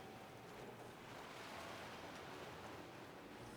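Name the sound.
ocean surf waves in video game Skyrim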